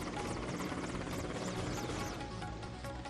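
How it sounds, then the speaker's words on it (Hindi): A military helicopter hovering over the KIMS Covid hospital in Bhubaneswar, dropping flowers in salute, its rotor and engine making a loud, steady, close roar that runs through the whole stretch with no break. "हेलीकॉप्टर से बरसाए फूल"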